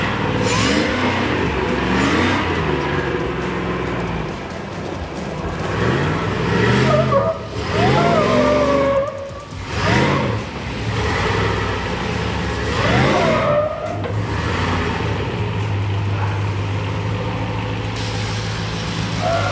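An off-road 6x6 truck engine starts and revs up and down close by, several rising and falling surges over a steady rumble with no talking.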